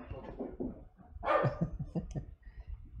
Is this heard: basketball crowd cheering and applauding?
no